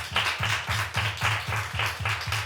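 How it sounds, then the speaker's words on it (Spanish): A church congregation claps in a steady, even rhythm, about four claps per second, close and fairly loud, with no talk over it. "¿Cuánto le dan un fuerte aplauso al Espíritu?"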